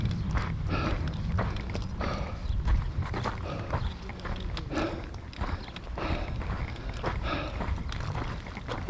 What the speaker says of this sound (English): I'm approaching a herd of camels